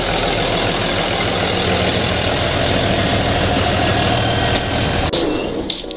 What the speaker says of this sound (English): I think the UPS truck just came in.